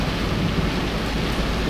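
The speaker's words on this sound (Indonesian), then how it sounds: "Udah mulai turun hujan dan lumayan deras" Heavy rain pouring on a car driving through fog on a road, a dense continuous hiss and patter drumming on the vehicle, loud and steady with no talk.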